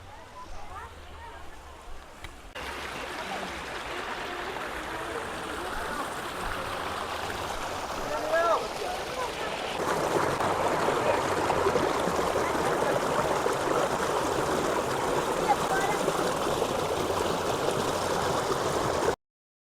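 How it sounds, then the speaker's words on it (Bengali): The Barakar river flows under a bridge near Maithon, producing a steady broadband rush of water that swells louder partway through and then holds constant. "এর নিচ দিয়েই বয়ে গেছে বরাকর নদী"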